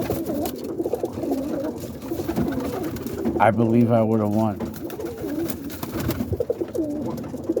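Roller pigeons on a porch in Boston, Massachusetts, give a single rolling coo in the middle, close by and clear, while someone talks over and around it.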